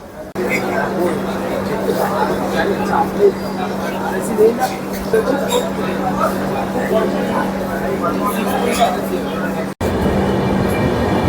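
Heard from inside the 12343 Darjeeling Mail as it pulls out of Bardhaman Junction: a steady, loud low rumble and hum of the rail carriage, with faint chatter in the background.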